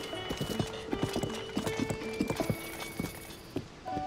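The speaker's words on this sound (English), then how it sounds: "There's two horses around here." Horse hooves clip-clop in a quick trotting rhythm in Zelda: Tears of the Kingdom, close and steady, with a horse neighing partway through over faint background ambience.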